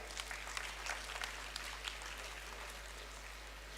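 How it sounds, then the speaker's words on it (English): A convocation audience claps in a soft, distant patter for a few seconds beneath a steady low hum. "I think a big applaud for them"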